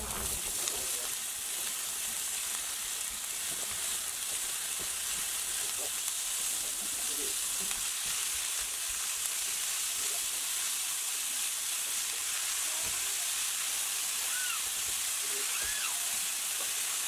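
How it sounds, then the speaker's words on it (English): Vegetables sauteing in oil in a pan, a steady, even sizzle and hiss running throughout with faint clinks, and a voice briefly audible underneath. "In a pan, add in some oil and then place in your vegetables and saute them for 8 minutes"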